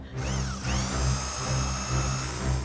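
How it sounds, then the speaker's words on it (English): A power drill bores a hole through an external house wall level with the floor joists, a steady loud whine running continuously at close range. "First, James has to drill a hole through the external wall, level with the floor joists."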